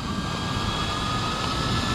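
A homemade UFO-style drone flies with a steady, noisy whine of spinning propellers, a constant airborne buzz holding at an even level throughout with no talking.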